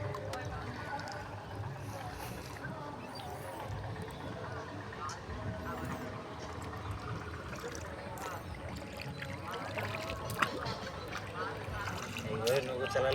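Wooden rowboat moving along the old Ganges, with faint, steady water splashes and trickles from the oars under a low background wash, heard from close by and quiet throughout.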